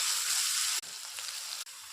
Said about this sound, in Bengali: ডাল আমি অল্প ভেজে নেব